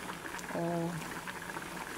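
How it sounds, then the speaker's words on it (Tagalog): A pot of ginataang gulay, a coconut-milk vegetable stew with squash, malunggay and fried tilapia, simmers with a steady, soft bubbling, joined by a brief tonal hum near the middle. "pakuluan pa natin ng konti kasi hindi pa siya masyadong kumulo"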